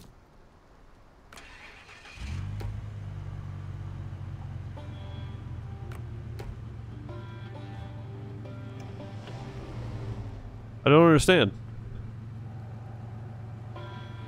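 Chevrolet CK1500 truck in the off-road game SnowRunner: an engine starts and settles into a steady low idle rumble, close and continuous, with a short bright burst partway through and a brief spoken remark over it.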